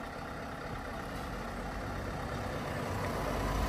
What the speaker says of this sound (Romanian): Stai să treacă mașină.